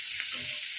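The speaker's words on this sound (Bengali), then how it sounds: "আমি এই পেঁয়াজটা ভেজে নিয়ে দিচ্ছি" Onion frying in hot oil, a steady bright sizzle with faint scraping of stirring, close and continuous without any voices.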